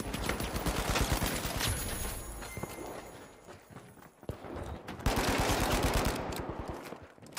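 Pistol gunfire in the shooter game The Finals, with rapid clusters of sharp shots cracking in loud bursts, a short lull, then another heavy volley.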